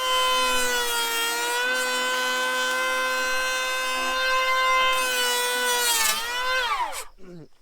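A DeWalt brushless electric hand planer runs at a steady high-pitched whine while planing wood, holding even and loud for about six seconds before the motor winds down and cuts off.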